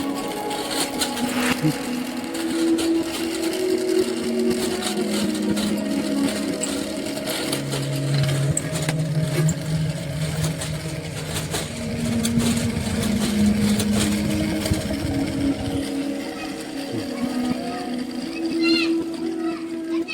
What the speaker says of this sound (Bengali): সাইকেলের চাকা প্যাডেল ঘোরালেই মোটর ঘুরবে